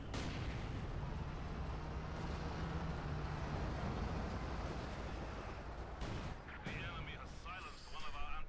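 An IS-2 tank firing on Obersoldaten in a Company of Heroes 2 battle, a continuous wash of booming cannon and gunfire rumble, with a commentator talking over it and sharper crackling bursts near the end.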